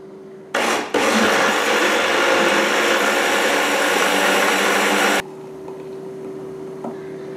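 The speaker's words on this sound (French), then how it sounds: "Maintenant, il ne vous reste plus qu'à mixer tous les fruits ensemble." A blender whirs loudly and steadily for about four and a half seconds, blending mixed fruit with orange juice for a summer drink, then cuts off sharply and leaves a quiet room hum.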